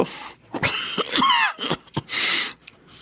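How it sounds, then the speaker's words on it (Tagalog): A person coughs several times in quick, harsh bursts, with wheezy breaths and throat-clearing between them, close and alone. "Hirap na ako sa ubo ko."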